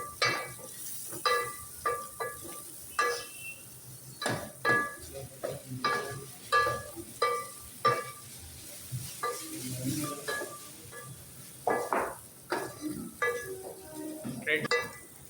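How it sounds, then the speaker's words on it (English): Finely chopped onions fry in oil until golden brown, a near sizzle broken by rhythmic scraping stirs and light clinks of a spoon against the pan. "finely chopped onions or sliced onions. Fry till it becomes golden brown"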